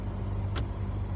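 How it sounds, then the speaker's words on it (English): Steady low rumble inside a car while driving, with one sharp short click or tap in the middle. "But right now we in the car."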